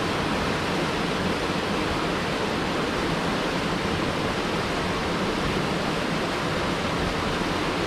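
Small waterfall about three meters high pouring into a broad mountain valley pool, a dense, steady rushing roar of falling water with no pauses, heard close and alone.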